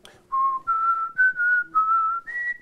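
A person whistles a tune alone, a clear, loud, close melody of sustained notes that step up and down in short phrases.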